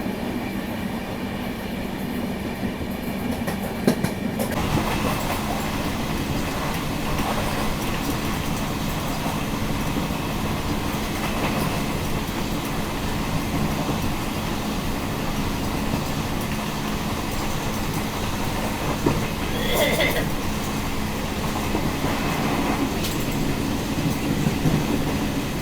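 Poorva SF Express passenger train rolling along the rails in Bihar, a steady loud rumble with rhythmic clatter heard from on board, continuous for the whole stretch with occasional brief squeals and knocks.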